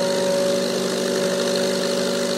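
JET wood lathe running up to around 1,000-1,500 RPM, a loud, steady motor hum with a sustained whine, continuous throughout with no talk.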